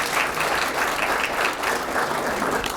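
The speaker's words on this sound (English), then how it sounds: "So if we could just give a round of applause to all of our graduating seniors" Graduating seniors at a Muskegon Community College meeting get steady, sustained applause from the audience, a dense wash of many hands clapping continuously without pause.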